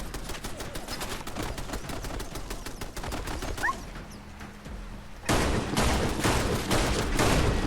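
An automated turret in Fallout London fires in a fast, steady stream of rapid shots, pausing briefly before resuming louder and denser, heard close and continuous.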